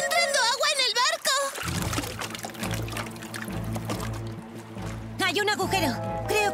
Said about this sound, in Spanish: ¡Está entrando agua en el barco!